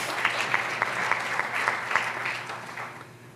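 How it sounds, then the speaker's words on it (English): An audience applauds steadily at an author event honoring poet and children's author Luis Rodriguez, with dense, sustained clapping at moderate loudness and no talking. "That deserves a round of applause."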